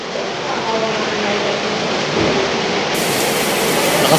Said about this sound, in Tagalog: Grabe, lakas ng ulan, no?